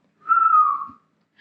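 A person gives one short whistle, about a second long, sliding slightly downward in pitch, imitating a pressure cooker whistle, alone and fairly loud against silence.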